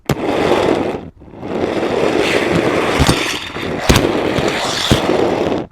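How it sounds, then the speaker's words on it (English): A fingerboard rolling on Ill Pills resin wheels, giving a loud, continuous, gritty rolling rumble with a short break near the start and a few sharp clacks and pops along the way. "I believe these are ill pills."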